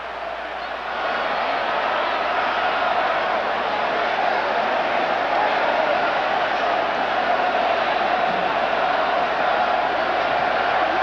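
Ohio State home fans fill the stadium with a loud, unbroken roar during the 1990 Michigan at Ohio State football game, a dense wash of crowd noise that holds steady throughout.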